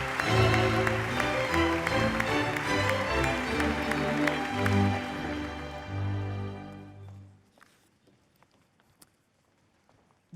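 Applause from an audience at the 2016 European Heritage Awards ceremony in Madrid greets category winners, a dense sustained clapping that swells and then fades away to near silence by the end.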